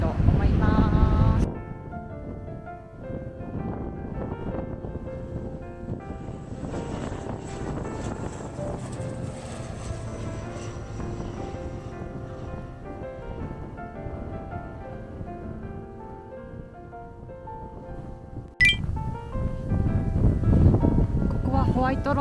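Strong wind at a beach on Yoron Island, beside an airport runway, buffets the microphone in heavy low rumbling gusts at the start and end. Someone talks in between with a faint distant drone beneath.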